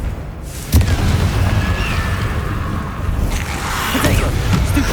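A Confringo blasting spell detonates in Hogwarts Legacy with a sharp burst followed by a loud, sustained rumbling roar, with more crackling impact later.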